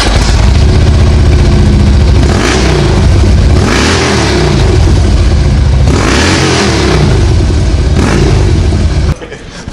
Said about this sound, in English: We're going to hear some really cool sound out of this bike.